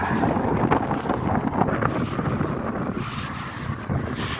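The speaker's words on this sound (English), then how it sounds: "I was hoping it'd be less windy down here." Wind gusts across the seaside at Southport, West Lancashire, roaring and buffeting a nearby microphone in uneven surges, loud and unbroken throughout.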